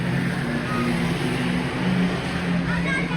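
Race cars roaring off the starting line at Cowdenbeath Racewall, a steady loud engine drone from several cars, with a commentator talking over it.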